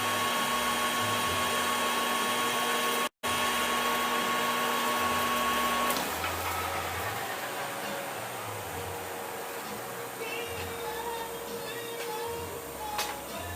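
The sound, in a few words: boring a cast iron handwheel on a lathe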